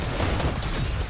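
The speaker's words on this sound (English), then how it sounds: "Oh, boogie bomb." Boogie bomb detonating in a video game, a dense burst of noise with a booming low end that fills the short moment and holds steady rather than fading quickly.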